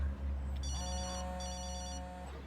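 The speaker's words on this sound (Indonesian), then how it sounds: "Tiba-tiba ada telepon berdering, tapi bukan HP miliknya." A telephone rings in a film scene from the thriller Unhinged (2020), a steady electronic double-trill ring repeating twice, loud and close over a low background hum with no voices.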